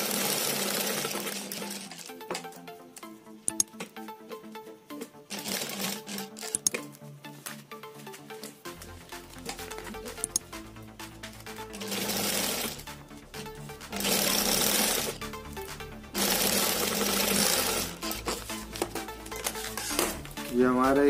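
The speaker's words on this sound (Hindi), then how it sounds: "यहाँ से इसमें सिलाई मार देंगे हम।" A sewing machine stitches a transparent plastic TV remote cover in quick mechanical whirring bursts of a few seconds each, between quieter stretches of handling, rustling and an occasional voice.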